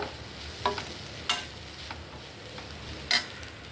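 Food frying in a pan while it cooks for egg fried rice, a soft steady sizzle with a few sharp clicks and scrapes of a spatула stirring.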